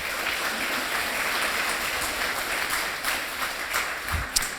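Church congregation applauding during a service, a steady, moderately loud wash of many hands clapping with occasional sharper claps near the end.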